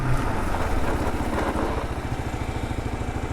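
A 2022 Kawasaki KLR650 with ABS runs on mixed gravel and dirt during a slower-speed braking test, its engine chugging in a fast, even pulse up close while tyres crunch and rattle over the loose surface.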